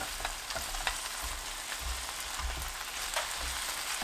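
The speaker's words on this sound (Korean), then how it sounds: "팽이버섯 넣고 1분 볶습니다." Enoki mushrooms stir-frying with duck bulgogi in a hot pan, a continuous crackling sizzle with occasional scraping of stirring, moderately quiet and steady with no voices.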